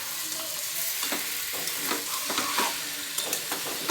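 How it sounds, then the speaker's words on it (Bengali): Food fries in a pan while being stirred: a constant sizzling hiss broken by several scraping, clattering spoon strokes, close and fairly loud, with no speech. "নেড়ে চেড়ে ভালো করে ভেজে নিচ্ছি।"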